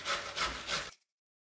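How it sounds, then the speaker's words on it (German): An onion is grated on a kitchen grater for zucchini bread, giving three close, rhythmic rasping strokes before the sound stops abruptly. "Die Zwiebel habe ich gewogen, ungefähr war 100 Gramm, werde ich auch reiben."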